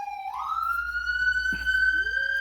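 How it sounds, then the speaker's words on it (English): A passing ambulance siren wails steadily and moderately loud, its tone sweeping up at the start and then holding a high pitch over faint background hum. "Sorry, that's an ambulance passing."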